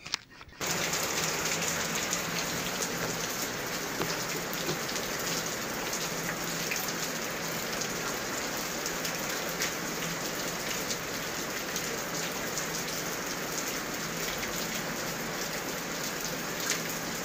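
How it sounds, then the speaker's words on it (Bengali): Heavy rain falls without pause, a constant rushing patter of drops that starts abruptly and stays even throughout. "बारिश कर रही है।"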